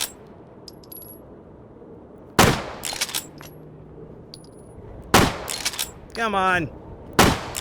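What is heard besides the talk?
rifle shots in video game H3VR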